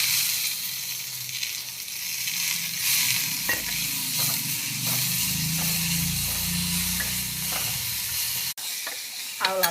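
Curry leaves and coriander sauté in a pan, with a continuous hiss of frying broken by repeated scraping stirs of the spoon, close and loud, before a short pause near the end.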